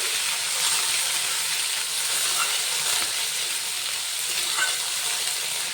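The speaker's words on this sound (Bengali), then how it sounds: "এবার আগের থেকে ভিজিয়ে রাখা ছোলাগুলো সবগুলো এর মধ্যে দিয়ে দিব" Soaked chickpeas fry and get stirred in a pan for an evening snack, a steady close sizzle with light scraping from a small spatula running throughout, no talking.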